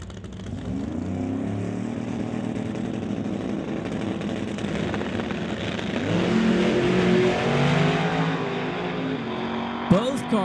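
West Coast Pro Mod drag race cars run side by side down the track, a loud sustained engine roar with rising pitch as they accelerate, steady throughout with a sharp transient near the end.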